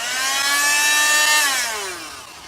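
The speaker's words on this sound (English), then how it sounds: "Gonna be doing some sanding. So I'm gonna start out with 80 grit." Power sander working 80 grit over 3D printed armor, a loud close whine that holds steady, then drops in pitch as it winds down over a couple of seconds.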